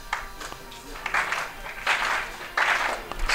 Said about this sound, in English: Slow clapping is starting